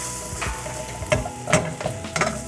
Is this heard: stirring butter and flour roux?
yes